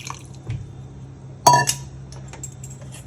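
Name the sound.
cooking water being poured into mashed black rice payasam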